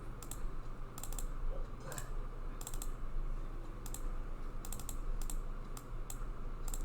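Keys tapped on a computer keyboard while entering a name into an email form, a few quick clusters of clicks spread across steady low background hum, no voices.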